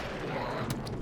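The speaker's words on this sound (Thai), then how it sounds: "ระเบิดไป" Explosions in the video game How to Survive 2, heard as a quick series of sharp blasts, three bursts packed into about a second over low game background noise.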